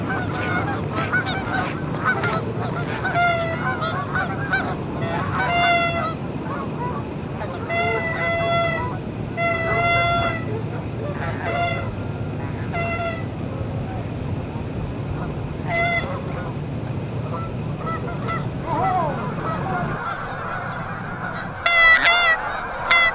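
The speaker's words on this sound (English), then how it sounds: "We're going to try to get these geese airborne here" A flock of geese honks repeatedly nearby in bursts of loud, overlapping calls over steady background noise, with a brief clatter and more honks near the end.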